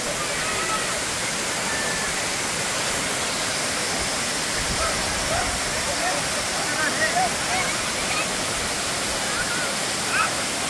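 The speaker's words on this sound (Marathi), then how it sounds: "जेवढा हा धबधबा सुंदर दिसतो आहे तेवढाच हा खतरनाक देखील आहे" A monsoon waterfall in Konkan, its broad, dense roar of falling water steady and loud throughout, with faint voices under it.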